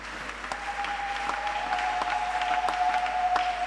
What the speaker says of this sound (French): Est-ce que tu peux acclamer le Seigneur?